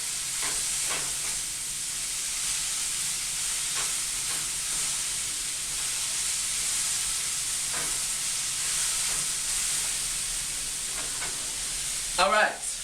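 Vegetables sizzling and frying in a hot pan, a steady loud crackling hiss that continues evenly, with a brief clatter of stirring near the end.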